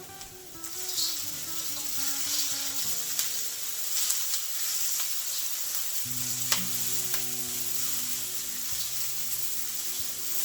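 Peas tipped into shrimp fried rice sizzling in a hot pan give a steady, close frying hiss with light stirring scrapes, all under soft background music.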